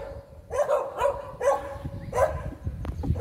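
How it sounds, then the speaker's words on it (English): Dogs bark outdoors in Bambous, Mauritius, in a run of four loud, sharp barks spaced roughly half a second apart, fairly close, with scuffling background noise between them and no speech. "I don't know why the dogs are barking at me"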